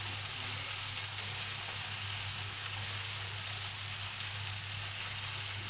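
Pasta and bacon lardons frying together in a pan, giving a steady, even sizzle that runs unbroken and fairly quiet throughout, with a low hum beneath and no talking.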